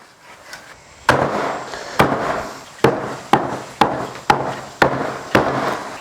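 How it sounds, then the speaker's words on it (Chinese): A cleaned catfish is chopped into pieces, with about eight sharp, loud chops landing at a steady pace, each followed by a short ringing decay. "鲢鱼清洗干净过后，来给它宰一下"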